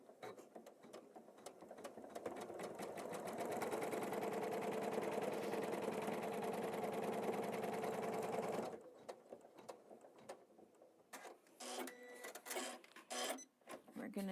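Embroidery machine stitching a tree design, a rapid rhythmic needle clatter running loud and steady for several seconds, then stopping, followed by scattered lighter handling clicks and bursts.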